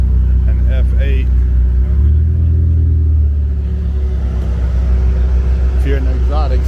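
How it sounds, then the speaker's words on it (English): A Ferrari F8 rolls up along exotic row at a car show, its engine a steady low rumble that swells briefly with a light rev, while voices chatter nearby over the idle. "We got a Ferrari pulling up an F8."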